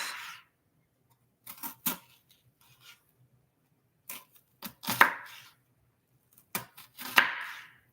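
A knife slices through food on a cutting board while preparing lasagna, several sharp separate cuts in small clusters with quiet pauses between, close and clear with no talk.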